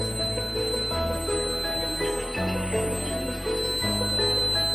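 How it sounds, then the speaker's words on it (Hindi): A homemade water alarm working model, a school project, rings with a steady electric bell-like buzz that holds continuously at close range and fairly loud, with brief dips in its tone. "हाँ अलार्म।"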